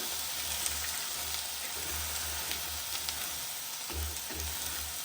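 Soaked chickpeas crackle and sizzle on a hot dry griddle as they are stirred, a continuous close hiss with faint scraping throughout.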